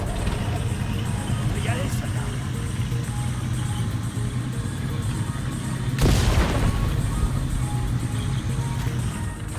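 A landmine detonates in the video game Teardown as a vehicle drives over it, one sudden broad blast rising out of steady engine rumble and rattling, then fading back into the drone.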